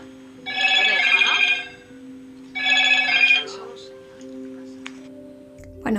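A telephone bell rings in two long electronic bursts with a pause between, loud and close, followed by softer tonal sounds and a short thump at the end.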